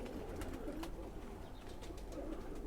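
Khaki Chua pigeons in a Jammu loft coo softly in low, rolling repeated calls, with faint soft clicks and rustles over a quiet background.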